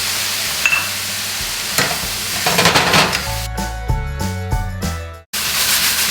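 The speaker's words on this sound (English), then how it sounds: "we're gonna deglaze with just a few more tablespoons of gluten-free soy sauce or coconut aminos and black vinegar" Pork mixture for Dan Dan noodles sizzles steadily in a pan as gluten-free soy sauce or coconut aminos and black vinegar are added to deglaze, with stirring scrapes partway through, a tonal background, and a brief cutoff near the end.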